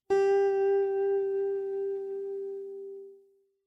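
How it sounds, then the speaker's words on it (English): A single plucked guitar note rings out alone, clear and close, its pitch wavering gently with vibrato as it sustains for about three seconds before fading out. "A wavy line means vibrato or vibrate."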